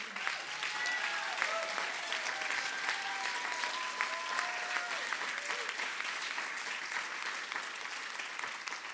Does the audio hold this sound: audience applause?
yes